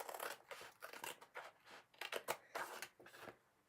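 Scissors cutting paper mitten shapes: close, quiet, repeated crisp snipping and crunching strokes in an uneven rhythm, with no talking.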